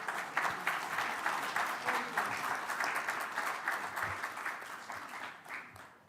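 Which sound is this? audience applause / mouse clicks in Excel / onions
audience applause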